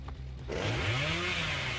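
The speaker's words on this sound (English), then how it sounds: "He's revving up a chainsaw from 20 meters away." Leatherface revs a chainsaw in the game Dead by Daylight, a rising buzzing whine that kicks in after a brief lull and holds steady, moderately loud.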